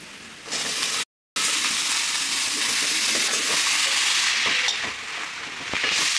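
Bottle gourd pieces hit hot oil tempered with turmeric, giving a steady loud sizzle and hiss with a brief cut partway through and soft stirring clatter near the end, no voices.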